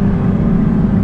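A sports car engine revs and roars steadily up close, a dense low rumble holding constant for about a second with no voices.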